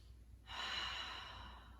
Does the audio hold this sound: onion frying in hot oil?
no